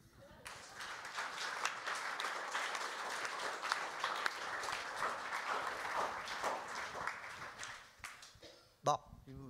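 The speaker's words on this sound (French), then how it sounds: "Très bien, merci beaucoup, on l'applaudit." Audience at a lecture-demonstration on masks applauding, a lively, full round of clapping that carries on for several seconds before fading, with a voice speaking briefly at the end.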